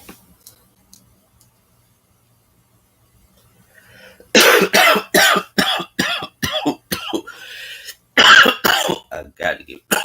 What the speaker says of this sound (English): I got to get rid of this cough before I go.